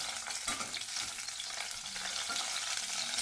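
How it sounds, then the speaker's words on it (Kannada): Capsicum roasts in hot oil for a North Karnataka palya, giving a steady, close sizzle with soft stirring scrapes running through it and no voices. "ಅದು ಎಣ್ಣೆ ಸ್ವಲ್ಪ ಕಾವತ್ತಿದ ಮೇಲೆ ಇದನ್ನ ಹಾಕ್ಬಿಡೋಣ ಸ್ವಲ್ಪ ಹುರ್ಕೊಳ್ಳೋಣ"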